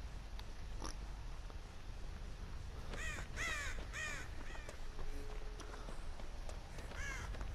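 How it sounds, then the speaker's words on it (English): Several crow caws from the Dead by Daylight video game, a cluster of harsh calls in the middle followed by a couple more, over a steady low ambient game background. "That's a bird."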